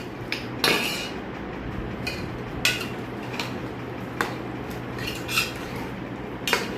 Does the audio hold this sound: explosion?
no